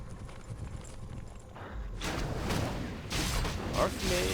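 Horse hooves clip-clop as the Archmage hero rides into battle in a Warcraft 3 mod tournament match, a steady mid-level trotting beat amid game clatter and whooshes, with commentators talking over it.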